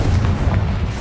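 A Confringo spell explosion in Hogwarts Legacy, a single dense low boom that fills the whole second, loud and close with no talk over it.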